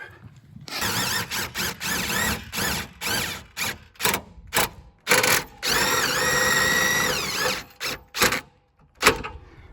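A power drill drives the stabilizer jacks of an XLS 22MLE travel trailer down, whirring loudly and close in bursts of a few seconds that start and stop, with short gaps between them.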